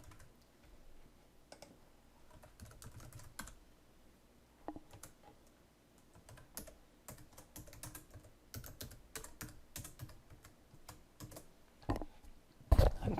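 A username and password are typed on a computer keyboard as scattered, soft key taps that come in irregular bursts, ending with a couple of louder clicks.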